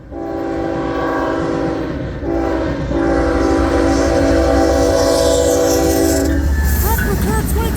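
A southbound CN freight train passes at Ladysmith, Wisconsin, its horn blaring loudly and steadily for several seconds, then giving way to a deep engine rumble and the rolling roar and clatter of cars going by close.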